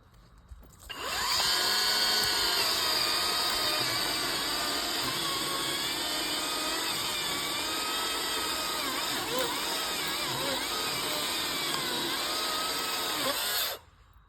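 Battery chainsaw cutting into a tree trunk during felling, a loud, steady high whine lasting about thirteen seconds that starts and stops sharply, with slight pitch wavering as the chain bites into the timber.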